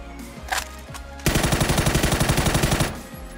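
Automatic rifle fire in PUBG on PC, a single shot followed by a rapid, evenly spaced burst of around eighteen rounds, loud and close, heard alone.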